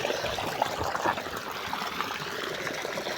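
Water flows in a small field stream or channel, a steady close rushing and trickling wash that continues evenly throughout with no talk.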